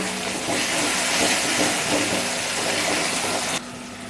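Tomato dropped into onions already frying golden in a pan for misal pav, giving a loud, steady sizzle and hiss that continues throughout with no talking.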